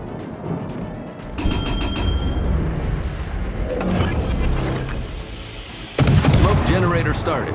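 Naval gunfire booms out in World of Warships, with several heavy blasts and crashing impacts, the loudest near the end, while a voice speaks over the battle.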